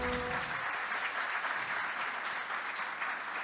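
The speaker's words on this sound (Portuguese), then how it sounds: "você pode aplaudir o Senhor?" A church congregation applauds the Lord during a worship service, steady, dense clapping filling the hall without pause for a few seconds.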